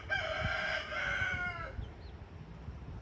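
A rooster on a backyard farm crows clearly at moderate distance in a drawn-out call, followed by a couple of soft clucks from hens over quiet rustling.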